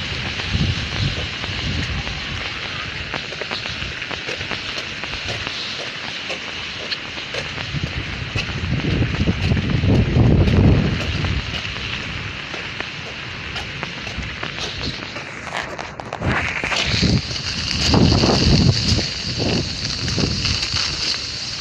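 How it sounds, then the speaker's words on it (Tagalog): Strong wind gusts roar and buffet continuously near a river, rising in surges, with a rain-like rushing hiss and occasional rustling throughout. "Hindi pa naman malaki yung ilog, pero mahangin."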